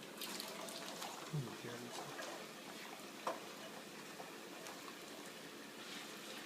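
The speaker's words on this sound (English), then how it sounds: "You're going to want to drop in all the potatoes that you recently cut up and peeled. Now be careful of the hot olive oil." Cut, peeled potatoes dropped into hot olive oil while cooking a Spanish tortilla make a faint, steady hiss and sizzle, broken by a few soft clunks and splashes.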